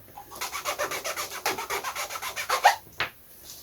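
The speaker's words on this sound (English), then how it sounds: "When you file in the slot, you can very subtly file it at an angle so it goes in and then tightens up as it gets to the end" A file works a slot into a balsa model plane part, giving a rapid, even run of close rasping strokes about five per second, followed by a couple of slower scrapes at the end.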